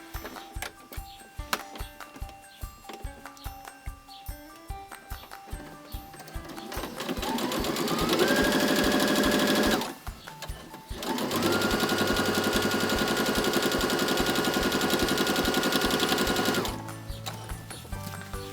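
A sewing machine stitches across the edge of a fabric wallet with a quarter-inch seam, starting with slow separate needle thumps that speed into a loud, steady whirring run, pausing briefly and then resuming before slowing again.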